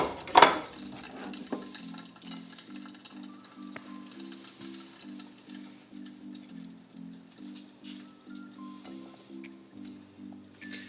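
Chicken breasts sizzle quietly in a hot pan set to 350, a soft pulsing crackle running steadily after a sharp clatter of the meat going in.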